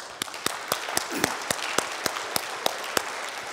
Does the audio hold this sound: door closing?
no